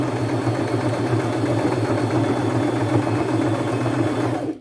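Sewing machine stitching around the edge of a boho fringe flap bag, running steadily with a rapid, even mechanical whir, close and continuous until it stops at the end.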